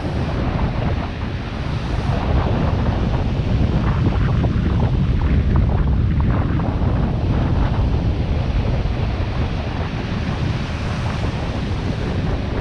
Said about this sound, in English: Quick look at the sea before we go.